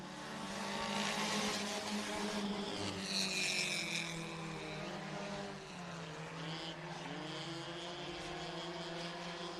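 Four-cylinder race cars, Hornets class, at Sunset Speedway Park roar down the back straightaway, several engines droning and shifting pitch as they pass at moderate distance, with a commentator calling the race over them.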